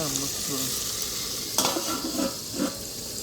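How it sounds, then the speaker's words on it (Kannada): Tomato masala fries in a pan for a chicken sukka, giving a steady broadband sizzle with a few louder stirring scrapes near the end. No one speaks. "ಇದೊಂದು 10 ನಿಮಿಷ ಇಲ್ಲ ಫ್ರೈ ಮಾಡೋಣ."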